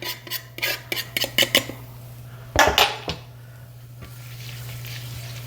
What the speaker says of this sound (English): I'm going to add the shallot to the pan.